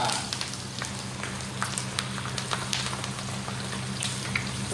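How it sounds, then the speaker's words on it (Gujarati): Green chillies frying in hot oil as a snack before pakoras are made, a steady bubbling sizzle with scattered crackles and spits running throughout, close and fairly quiet over a low constant hum. "હવે મરચાં તળાઈ રહ્યા છે."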